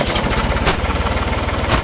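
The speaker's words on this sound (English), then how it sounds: "See how fast this lift goes up on this tractor?" A used tractor engine chugs at a close, steady idle with rapid rhythmic pulsing while the hydraulic lift raises, loud and alone.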